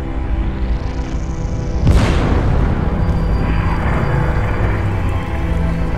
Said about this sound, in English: This is a supernova explosion.